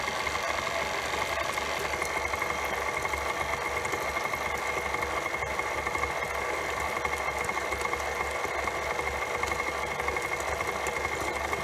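An electric mixer on low speed churns cake batter of dry ingredients, a steady continuous motor whir with a rhythmic buzzing hum that holds level throughout, close by.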